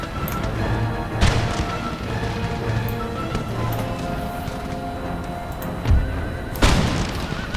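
Musket volleys in Empire: Total War, heard as several loud, booming simultaneous discharges over a constant battlefield rumble, with sharp blasts spaced a few seconds apart.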